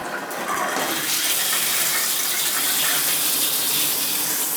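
Water runs steadily from a tub or shower faucet after a loose cartridge was tightened to stop a drip, a continuous broadband hiss that holds even and fairly loud throughout with no voices.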